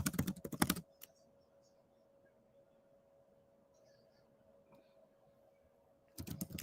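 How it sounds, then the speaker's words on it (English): Fingers typing on a computer keyboard in two short, fast bursts of loud clicking at the start and end, separated by near silence with a faint steady hum. "I'm literally typing this in"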